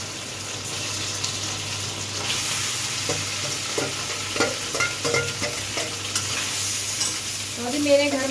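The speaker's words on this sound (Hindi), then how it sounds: "अब मैं कर रही हूँ आलू फ्राई" Potatoes frying in a pan with a continuous close sizzle, broken by a run of scraping stirs and clinks toward the middle and end.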